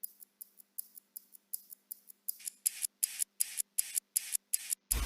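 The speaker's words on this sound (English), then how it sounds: "So without processing, the watch actually sounds like this." Unprocessed wristwatch ticking, a steady run of about eighteen crisp, closely miked ticks that grow louder partway through, over a faint low hum of background noise.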